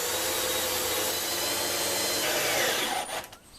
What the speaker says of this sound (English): I'm using a drill, but you don't have to use a drill.